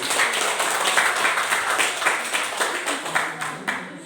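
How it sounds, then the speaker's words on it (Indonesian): A classroom of students claps together in steady, dense applause that continues throughout before gradually thinning toward the end. "Berikan tepuk tangan untuk kita."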